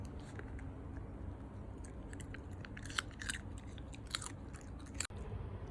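A bichon dog chews and bites its food with close, irregular crunching and soft mouth sounds that continue steadily, with a few sharper bites standing out over a low background hum.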